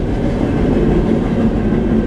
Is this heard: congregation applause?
no